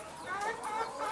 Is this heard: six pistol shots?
no